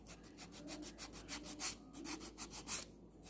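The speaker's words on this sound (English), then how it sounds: "I will be buffing the nails to smooth them down. I have my emery board." Acrylic nails being buffed with an emery board, a close, rhythmic back-and-forth rasping in quick regular strokes, with no voices.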